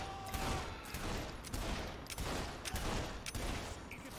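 Gunfire in Saints Row 3 Remastered on PS5: several loud bursts of shots in dense, overlapping volleys over continuous game noise, with no voices.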